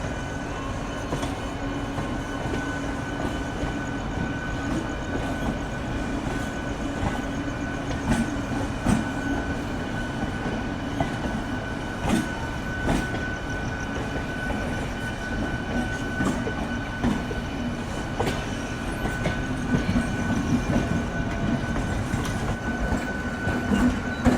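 Amritsar Mail express train running at high speed on rails, a continuous loud rumble and rattle heard from inside a carriage with recurring clickety-clack wheel beats and a steady hum, no voices.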